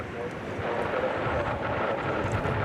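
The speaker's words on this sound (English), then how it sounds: "There's another American Airlines 777, which is on the move" An American Airlines Boeing 777 moves at DFW Airport, its jet engines a faint, broad rumble in the distance beneath someone talking.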